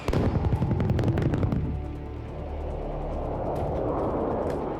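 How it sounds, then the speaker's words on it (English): Heavy gunfire from a C-130 Spooky gunship, a specially equipped plane carrying many guns: a dense rapid burst of loud shots up front, fading into a long rumbling roar and echo. "The military gave us the use of the Spooky, which is a C-130, specially equipped, like 18 guns."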